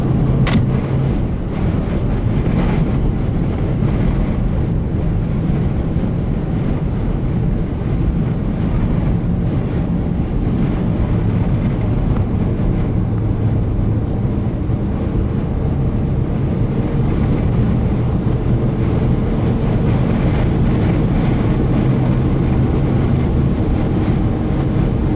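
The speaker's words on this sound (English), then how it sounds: "a sudden big gust of wind eventually snaps a piece of trim in half on the A-pillar of my vehicle" Strong wind gusts roar and buffet a vehicle near a tornado between Duke and Eldorado, Oklahoma, making a loud, steady rumble with rattling bursts that carries on without pause.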